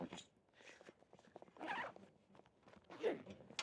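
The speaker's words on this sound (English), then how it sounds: "let's zip that back up." Zipper on a camera backpack compartment being pulled closed, a few short quiet zipping strokes with pauses between them, close by and soft.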